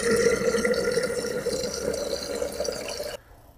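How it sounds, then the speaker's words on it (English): Tap water running steadily into a kettle, a close, continuous gushing fill with a rising tone that stops abruptly when the tap is shut off. "get the kettle filled up"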